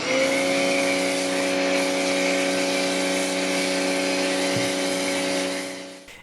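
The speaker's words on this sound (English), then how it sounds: "Here I'll be using my shorty gun in combination with my foam cannon" SunJoe SPX3001 electric pressure washer running with a shorty gun and foam cannon spraying Chemical Guys Mr. Pink car wash soap, a steady loud motor whine with hissing spray held for about six seconds before easing off at the end.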